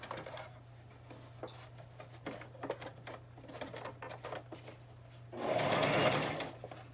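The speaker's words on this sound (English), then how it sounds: "I have an old cheap machine, so it's going to get sewn down the side" An old, cheap domestic sewing machine stitches fabric down a seam. Light ticking and patter give way to a loud, steady whirring run near the end, close by and with no voices.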